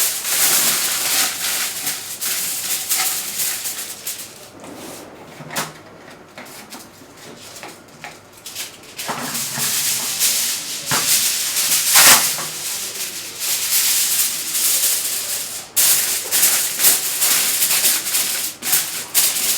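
Aluminium foil is pressed and crinkled over a small biryani handi to seal it for dum cooking, giving continuous close rustling and scrunching with sharper crackles, and no talk.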